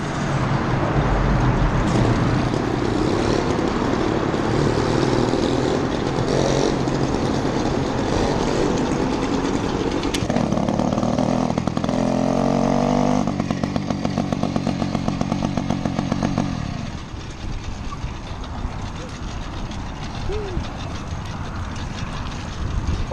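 Small 80cc moped engine droning loudly and steadily throughout the ride, with buzzy tone shifts as the throttle changes, easing off toward the end; voices talk briefly over it.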